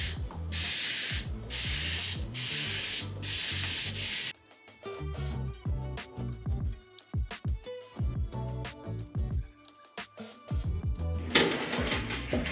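Short bursts of Dawn Power Wash aerosol hiss inside a toaster oven, several quick sprays in a row, then scraping and rattling handling noises, and another spray at the end.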